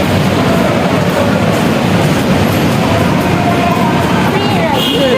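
Manila MRT train car in motion, a steady broadband rumble and rail roar filling the interior throughout, with faint squeals toward the end and muffled voices under the noise.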